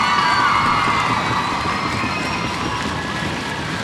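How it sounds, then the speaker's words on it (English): A school event crowd, with many children among them, cheers and applauds the participants of the Keith Valley Challenge. The noise is loud and steady, with shouts and whoops blending into a dense roar throughout. "let's give everyone in the challenge a nice round of applause."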